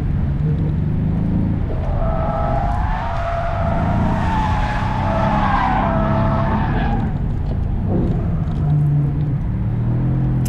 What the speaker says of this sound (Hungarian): És néha ilyen visszabúgyborogások, figyelj, annyira jó.